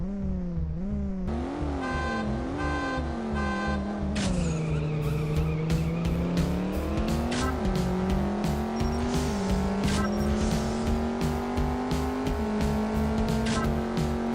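A fully upgraded stage 5 Camaro SS race car making 585 horsepower roars through a drag race in CSR Racing, its engine climbing in pitch with several distinct gear shifts and loud, continuous revving.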